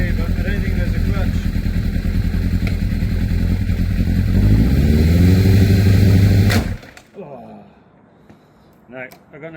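An abandoned 1980s Yamaha superbike engine runs loud and close for about six and a half seconds with a steady throb and some rising revs, then cuts out abruptly, leaving quiet night ambience with a few faint knocks.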